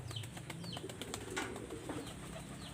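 Pigeons at a backyard loft, soft low coos repeating under a busy outdoor background of chirps and faint wing activity, fairly distant and quiet with no talk.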